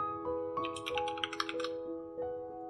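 A search is typed on a computer keyboard, a quick run of soft key clicks. A steady tonal hum sounds underneath and some short chime-like blips ring out. No one speaks.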